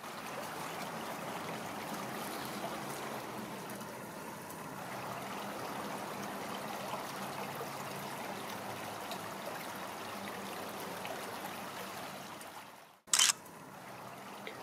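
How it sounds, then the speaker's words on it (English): A small creek trickles and gurgles beneath nearly solid ice in a cold, snowy regional park, a steady close babbling flow throughout, cut off near the end by a brief sharp click. "As you can see, the stream is almost completely frozen."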